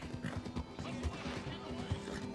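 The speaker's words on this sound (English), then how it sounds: "It is a very pretty American quarter horse." An American quarter horse in a video game clip-clops at a steady rhythmic pace, hoofbeats close and clear with a whinny, while a voice talks over it.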